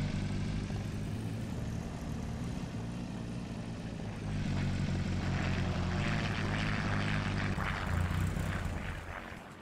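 A 1983 Niva 2121 engine idles and revs in the video game Farming Simulator 19, a steady droning mechanical hum with a slight swell midway, heard alone without talk.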